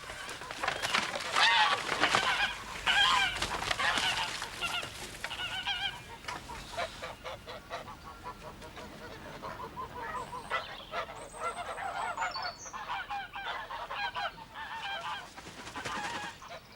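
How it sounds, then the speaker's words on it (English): Several geese honking loudly and repeatedly, with harsh calls overlapping in bursts, close by and continuing throughout. "I looked at the geese, which was hissing and huddling in the corner of the yard."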